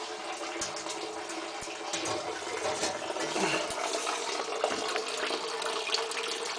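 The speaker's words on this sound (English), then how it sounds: "water is coming in from the pipes" Water gushing in from pipes into a pump system, a steady broadband rush of flowing water with a few low knocks, moderately quiet and continuous.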